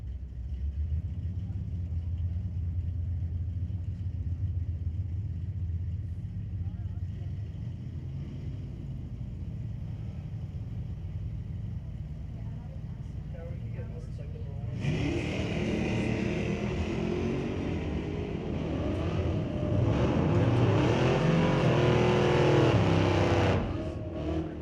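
A '69 Mach 1 and a '66 Chevy 2 at a street-legal drag strip: a low idling rumble builds, then loud engines roar off the line and rise in pitch, with a commentator talking over them.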